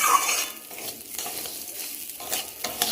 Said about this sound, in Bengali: ডালিয়াটা দিয়ে একটু হালকা করে ভেজে নেবো।